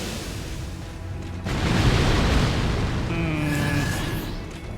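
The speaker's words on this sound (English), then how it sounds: "I'm going to do my big area spell. Should be an explosion." A big area spell in the Elden Ring video game erupts in a broad, rumbling explosion that swells and lingers for a few seconds, followed by faint higher magical tones.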